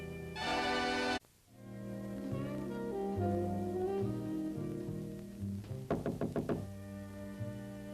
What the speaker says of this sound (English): That's the door.